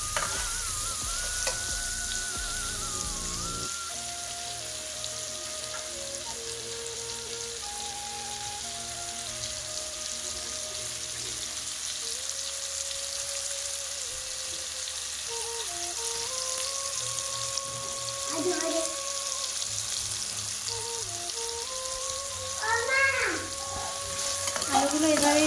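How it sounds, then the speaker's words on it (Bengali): Potato pieces deep-frying in hot oil until reddish, a steady close hiss and bubbling sizzle lasting the whole time, with occasional stirring scrapes and soft clinks, no voices. "আলুটাকে ভেজে নিতে হবে, একটু লাল লাল করেই ভেজে নেব।"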